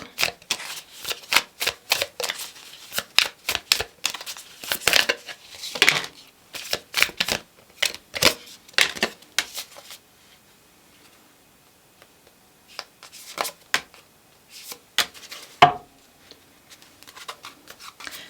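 Tarot cards are shuffled close by, giving bursts of crisp riffling and flicking that come in irregular clusters, pause for a few seconds, then resume more sparsely.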